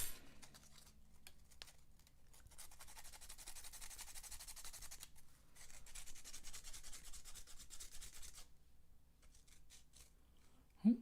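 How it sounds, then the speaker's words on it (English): Sandpaper rubbing a small 3D printed part, a faint steady scratchy hiss in continuous strokes with short pauses, close and quiet throughout. "Thankfully, I got some sandpaper handy."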